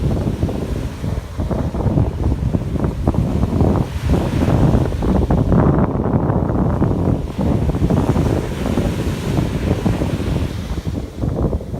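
Strong wind buffets the microphone in a constant roar on the coast of Vanuatu, with surf rumbling close by and no voices.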